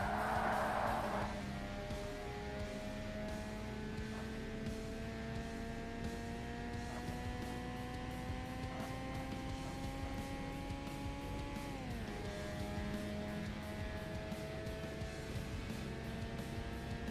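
A rotary-engined race car in the Forza Motorsport racing game holds a steady droning engine note through a turn, pitch slowly rising before dropping at a shift, with faint tire noise underneath.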